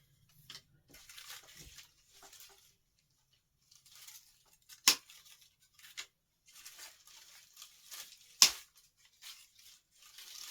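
Scissors snip ribbon for an artificial Christmas wreath, producing soft, scattered crisp cuts and rustles, with two sharper louder snips standing out, close and quiet.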